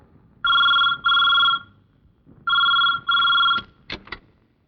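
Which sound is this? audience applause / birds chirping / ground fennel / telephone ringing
telephone ringing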